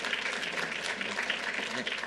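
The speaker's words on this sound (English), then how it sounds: "That's a good applause line." A crowd claps at a governor's gun violence legislation signing event, a soft, even wash of applause that holds steady throughout.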